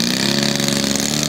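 A loud, powerful propeller engine of a Pitts 12S aerobatic aircraft drones steadily at close range, its pitch holding even with no voices over it.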